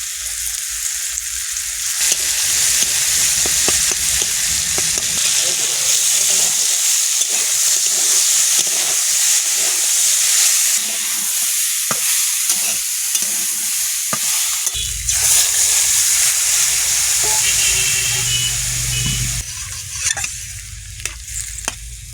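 Garlic frying in oil in a home kitchen for a shrimp and greens dish, a loud continuous sizzle with rapid scraping and stirring strokes throughout, no voices.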